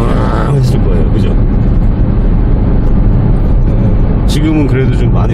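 Engine of a 2013 Chevrolet Spark driving at around 70 km/h, a steady low drone and road rumble filling the cabin throughout, with a voice speaking over it.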